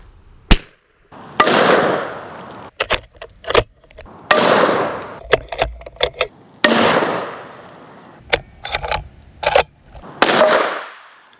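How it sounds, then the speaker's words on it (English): Henry lever-action rifle chambered in .45 Colt firing several loud, sharp shots spaced a few seconds apart, each followed by a long rumbling echo, with quick metallic clicks of the lever cycling in between. "Let's shoot off a couple rounds for fun."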